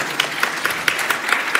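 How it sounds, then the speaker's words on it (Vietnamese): A church congregation applauding its worship team, with close, fairly rhythmic clapping at a moderate pace. "Chúng ta cho các em một tràng pháo tay."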